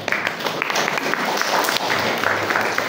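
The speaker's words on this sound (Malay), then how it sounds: "Tepuk tangan sikit." A short burst of audience clapping at a student ceremony, a dense patter of many hands, moderately loud and continuous for about three seconds.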